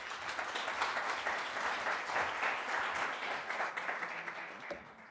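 An alumni event audience gives a welcoming round of applause, steady dense clapping at moderate level that tapers off toward the end.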